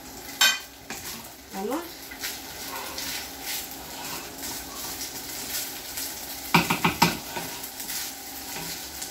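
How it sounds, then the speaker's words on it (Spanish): Rice frying in a pan for a salt cod and tomato sauce dish sizzles steadily while a utensil scrapes and stirs, with a few sharp clatters near the end and a brief spoken word. "Y ahora voy a poner el arroz y se va a freír."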